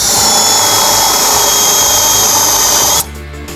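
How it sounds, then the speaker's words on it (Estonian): A cordless drill driving a large auger bit into wood, heard as a loud, steady whine of the motor with grinding for about three seconds, then cutting off abruptly. "sellisel akutrellil on ka piisavalt palju jõudu, et puurida ka oksapuuriga puidu sisse mõni suurem auk"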